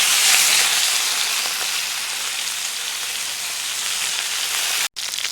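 Salmon fillets sear in natural coconut oil in a pot, giving a steady, dense, close sizzle that holds evenly throughout and cuts out briefly near the end.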